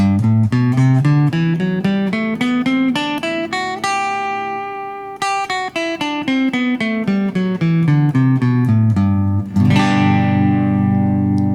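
Guitar plays a major scale one note at a time, climbing then descending in an even rhythm, finishing on a strummed chord; no talking.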